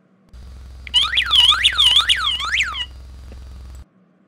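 A Verisure security alarm sounds with a loud, steady electronic siren, sweeping up and down in repeated looping wails over a constant low buzzing drone, then cutting off abruptly.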